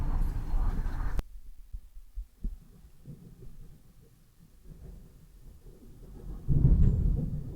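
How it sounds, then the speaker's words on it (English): Low distant thunder rumbles in two swells, a heavier roll at the start and another near the end, with a quieter murmur of rumble between them outdoors before rain. "that was just thundering"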